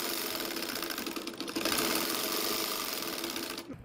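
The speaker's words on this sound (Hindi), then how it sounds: "अब ये मैं शोल्डर की सिलाई लगा रही हूँ" Sewing machine stitching a blouse shoulder seam, a continuous rapid mechanical whir and needle rattle, close and steady, with a brief dip in speed midway before cutting off at the end.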